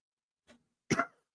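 A single short, sharp cough, preceded by a faint throaty sound, in an otherwise quiet background.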